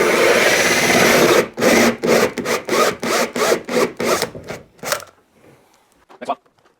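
Electrician drilling a downlight hole in a ceiling, starting with a steady grinding burst, then a rapid series of about a dozen rasping strokes that fade out, followed by a faint clatter.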